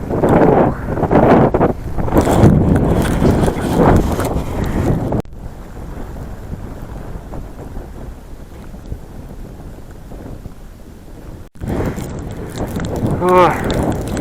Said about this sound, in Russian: Встречный ветер со снегом, еще и подъем.